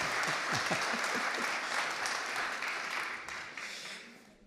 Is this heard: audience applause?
yes